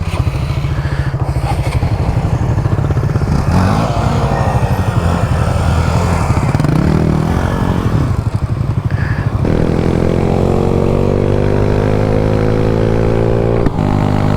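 A motorcycle engine held at wide open throttle on a 250, roaring loud and close, its pitch rising steadily through the gears with a fresh climb near the end.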